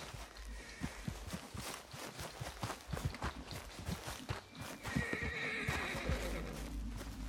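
A horse in the Western video game Red Dead Redemption 2 whinnies loudly, with clip-clopping hooves and scuffing steps around it, and a second shrill neigh comes later; close and clear, no talking.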